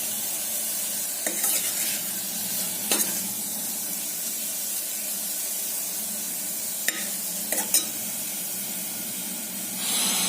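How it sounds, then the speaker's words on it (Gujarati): Fenugreek leaves and tomato sauté in a pan with a loud, constant sizzle, broken by a few brief scrapes of stirring. "આ બધું બરાબર મેથીની ભાજી અને ટમેટાની સાથે સાંતળવાની"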